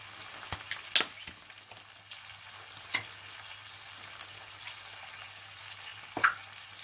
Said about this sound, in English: So I am also adding a little amount of soya sauce and ketchup.